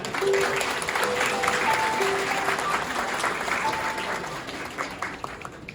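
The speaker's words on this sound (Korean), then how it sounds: "여러분 저와 함께 이 두 사람을 큰 박수로 축복해 주시기 바랍니다" Wedding guests at a ceremony in a Sindorim banquet hall burst into steady applause that fills the room, loud and dense at first and easing slightly toward the end, with a few faint tones over it.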